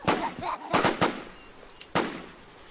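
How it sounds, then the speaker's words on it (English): Several sharp gunshots in a video game, loud and close, in an irregular cluster of quick cracks followed by a pause and one more shot. "Someone's shooting at us."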